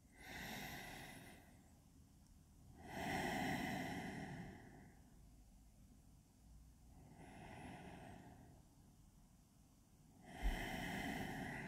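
Deep yoga breathing with long, audible inhales and exhales, two full breath cycles heard up close in a quiet room, each breath lasting a couple of seconds, with no speech.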